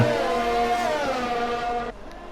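An F1 car's engine in the F1 2020 racing game, Singapore circuit, drones loud and steady with a high harmonic whine that shifts slightly in pitch, then drops off abruptly near the end, leaving a quieter tail.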